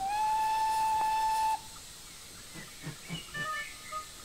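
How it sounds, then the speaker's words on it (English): A single loud, sustained steam whistle blast for about a second and a half, then quiet hissing and faint rhythmic chuffing. "he heard the unmistakable whistle of Rook"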